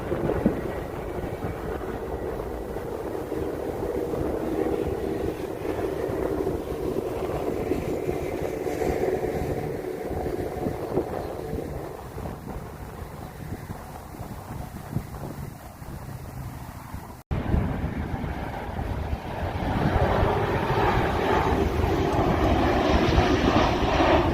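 A loud jet engine roars overhead as an airliner flies low on landing approach to San Diego, swelling and then holding steady with wind buffeting the microphone throughout.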